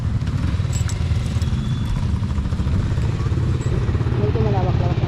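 A motorcycle engine runs steadily with a low throbbing idle and some clatter close by, while people talk over it throughout.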